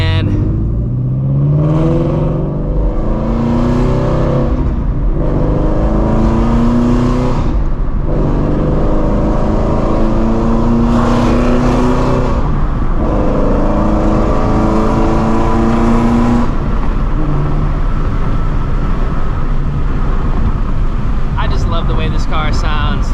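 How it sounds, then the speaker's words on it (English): Straight-piped Shelby GT350 on a city drive, its engine revving hard and accelerating in repeated climbing pulls, each surge rising in pitch and then dropping at the shift, loud and close throughout. "I just love the way this car sounds, man."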